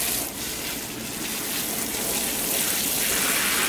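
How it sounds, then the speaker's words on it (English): Seedlings being watered, a continuous gushing spray of water pouring onto soil and leaves, close and steady, growing slightly louder toward the end with no talking. "The last thing I have to do is water some of my seedlings."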